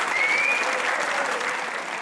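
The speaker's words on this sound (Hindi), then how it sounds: "इनके लिए एक बार तालियां होनी चाहिए।" On a TV comedy talk show, a studio crowd applauds in a full, steady wash that holds throughout, with a brief whistle near the start.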